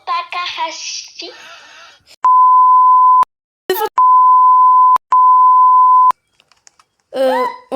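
Three loud, steady censor bleeps, each a flat sustained tone of roughly a second, cut in between stretches of casual French talk, with a short gap and a burst of speech between them.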